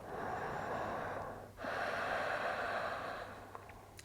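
Slow, deep breathing during a yoga session, a long steady inhale and exhale with a brief pause between, close and soft, with no talking.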